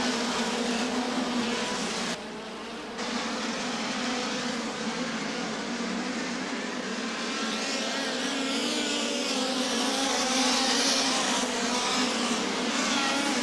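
Midget race cars of the POWRi Nat/West Midget League lapping Federated Auto Parts Raceway at I-55, a loud, sustained engine drone from the pack that swells and shifts pitch as cars pass, heard from the stands.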